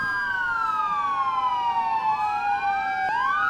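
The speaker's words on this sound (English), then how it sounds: "I turned on the sirens for dramatic effect" Emergency vehicle sirens in the video game Emergency 4 wail loudly, several overlapping sweeping tones rising and falling continuously with no talking.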